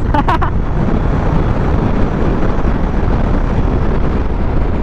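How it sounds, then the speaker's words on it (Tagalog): A sudden strong wind gust buffets the microphone outdoors, a loud low rumbling roar that holds steady throughout after a brief rattle at the start. "bigla lumakas yung hangin"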